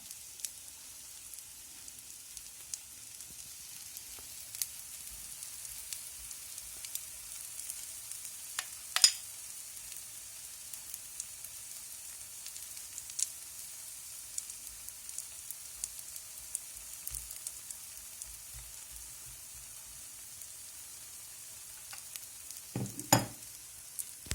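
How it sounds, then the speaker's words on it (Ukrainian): Zucchini cake layer frying in a pan, a soft steady sizzle running throughout with occasional faint clicks and one brief louder knock near the end, no voices. "Смажиться ще дві хвилинки"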